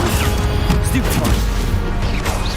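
Stupefy spell cast in Hogwarts Legacy: dense clashing magical whooshes and crashes with impact thuds, loud and busy throughout, with voices mixed in.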